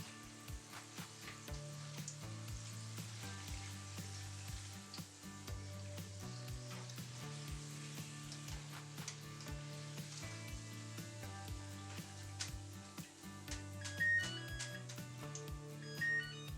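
Russet and Yukon Gold potato chips frying in hot oil, a steady close sizzle dotted with small crackles that continues throughout, with music playing underneath.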